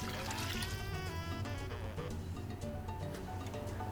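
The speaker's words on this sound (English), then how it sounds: "Next, we're going to add in water." Water is poured into a pot of Trini ham and black-eye pea soup, a steady continuous splashing trickle lasting several seconds, close and fairly quiet with no voices.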